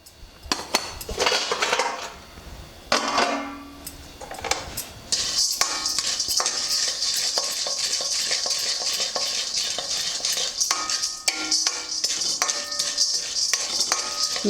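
Roasted gram stirred and tossed in a pan with a metal spoon for Andhra paruppu podi, quick scraping clinks over a steady dry sizzle that grows denser midway, close up with no talking.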